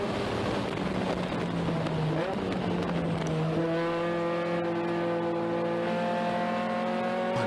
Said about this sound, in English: It's good to hear that Integra whining away again.